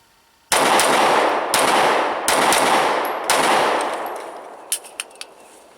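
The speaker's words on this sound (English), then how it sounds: "I'm going to present the weapon, fire a few rounds" An M&P 9c compact pistol fires four loud, closely recorded shots at roughly one-second intervals, each with a long ringing tail, followed by a few faint metallic clicks.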